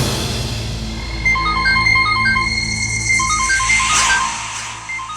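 A mobile phone ringtone for an incoming call plays a short melodic phrase that repeats several times, clear and close, over a bed of background music.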